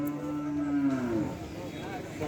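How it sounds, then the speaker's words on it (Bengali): One long, low moo from a large sacrificial cow at a cattle market, close and clear. It slides downward and fades over about two seconds. "অনেক বড় একটা গরু।"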